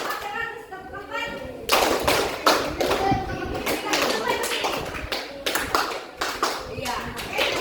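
Children in a classroom clap their hands in repeated bursts of quick claps, with a teacher and kids talking between and over the rhythmic patterns.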